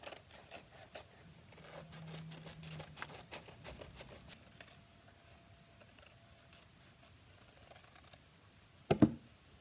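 Clippers snip around a paper graphic for a fingerboard deck, giving faint, quiet clicks and cuts that repeat at an irregular pace, then one sharper, louder snap near the end.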